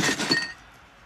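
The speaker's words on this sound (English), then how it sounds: "Picking it up, he heard the sound of broken glass" Broken glass rattles and clinks inside a shipped cardboard box as it is picked up. A brief, bright, jangling shake lasts about half a second and then fades into quiet.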